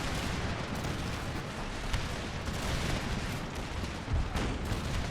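Distant 24-pounder cannons booming across a battlefield in Empire Total War, a dense continuous rumble of overlapping blasts with a sharper shot or two standing out near the end.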